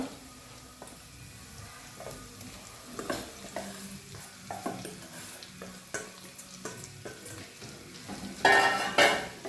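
Hog plum pickle is stirred in a pan, a spoon scraping and clinking against the metal over a soft sizzle, with irregular strokes and a louder scrape near the end.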